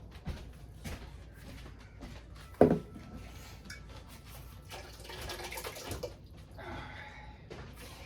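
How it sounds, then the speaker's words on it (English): Water splashes and trickles into tomato sauce jars to rinse them in a short burst, with a sharp clink partway through, against a quiet room background. "What I always do is I put a little bit of water just to rinse"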